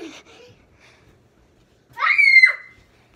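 A child lets out a sharp, loud scream lasting about half a second, preceded by brief faint voice sounds in a quiet indoor room.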